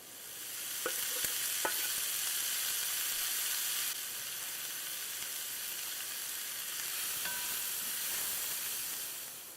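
Chopped onions fry in a pan for chana masala, giving a steady loud sizzle and hiss throughout, with a few sharp spoon scrapes and clicks of stirring near the start and a slight drop in the sizzle partway.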